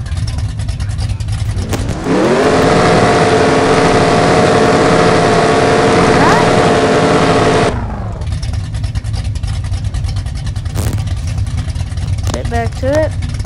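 Car with a carburetor launching hard at a drag race, a loud engine roar rising steadily in pitch for about six seconds before cutting off, followed by rumbling background noise, with other engines and voices in the surroundings.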